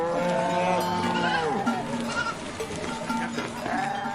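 Several sheep bleat among farm livestock, with long wavering calls close by, one after another and overlapping, some bleats bending downward in pitch and faint cowbell-like clanks behind them.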